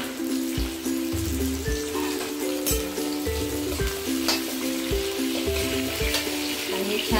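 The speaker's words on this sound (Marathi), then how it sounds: "आणि छान तेलामध्ये परतून घ्यायचं।" Capsicum sautéing in hot oil in a home kitchen, a steady close sizzle broken by regular spatula stirs and scrapes against the pan, with no talk over it.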